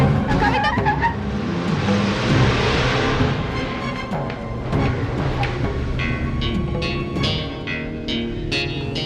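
A car driving along a road in a Hindi TV drama scene, its steady engine and road noise filling the clip with busy layered sound and occasional higher clatter on top.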